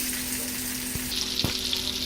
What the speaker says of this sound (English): here we got the sausage in there, sizzling